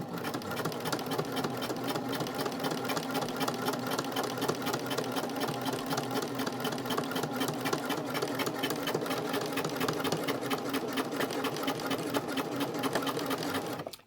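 A sewing machine back stitches a small credit card wallet, running in a fast, steady mechanical rattle with an even rhythm throughout, close and loud, with no pauses.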